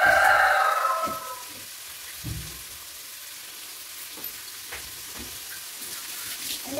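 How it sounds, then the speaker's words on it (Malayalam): Sliced onions with a pinch of salt fry in a pan, a louder sizzle at first that settles into a soft crackle, with a few light scrapes and clinks along the way. "ഇവിടെ സവാള ഇട്ടിട്ടുണ്ട്. ഈ സവാള മൂത്ത് വരാൻ പാകത്തിന് ഒരു അല്പ ഉപ്പ് ഞാൻ ചേർക്കാണ്."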